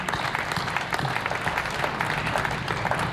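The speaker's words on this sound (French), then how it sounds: "Detlef Pessel, Pierre Aïe, Ndion et Moïse, je vous prie de les applaudir" An audience claps warmly at the inauguration of a youth center in Thiès, a dense, even applause of many hands sustained throughout without a break.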